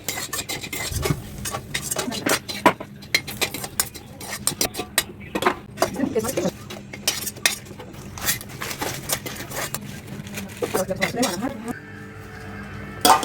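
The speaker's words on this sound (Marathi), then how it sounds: "आता लवंग भाजून घेऊया असे जे सगळे खडे मसाले आहेत ते सगळे आपण असेच भाजून घेणार आहोत" Rapid, irregular scraping and clinking of a utensil stirring whole spices, including cloves, dry-roasting in a pan, close and continuous, with a sizzle creeping in near the end.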